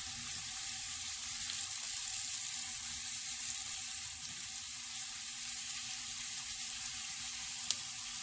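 Onion frying in a pan gives off a steady, even sizzle that holds throughout at moderate volume, with only a couple of tiny ticks and no voices.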